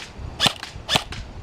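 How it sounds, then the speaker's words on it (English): Two sharp, snappy BB gun shots are fired outdoors about half a second apart, each followed by a faint pop, with no voices. "Yeah, shoot guns."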